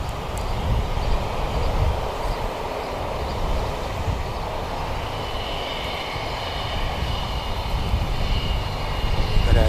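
Jet airliner landing at Wellington Airport, a steady loud broadband engine roar and rumble sustained throughout, swelling slightly toward the end.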